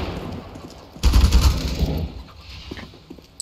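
Rapid automatic gunfire in the Apex Legends video game breaks out as a dense burst of shots lasting about a second, then trails off into scattered fainter reports.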